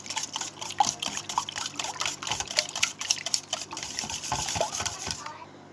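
A spoon stirs and clinks through a liquid milk mixture with salt in a bowl, a quick uneven rhythm of wet swishes and taps, close and moderately loud.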